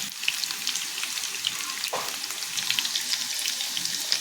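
Green chillies and asafoetida frying in hot oil for a samosa filling, a bright continuous crackling sizzle with scattered pops and a brief swirl of stirring midway.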